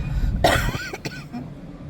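A single harsh cough up close, followed by a short throaty rasp and faint murmuring voice in the background.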